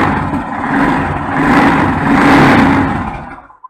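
A motorcycle engine, just repaired after a magnet coil fault and a Woodruff key replacement, runs steadily at a loud, close, even level for several seconds, then cuts off abruptly near the end.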